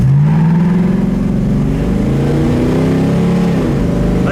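A 1965 Ford Mustang Fastback engine runs loud and close, its deep steady rumble rising and falling in pitch as it revs, rough and throaty throughout with no voices over it.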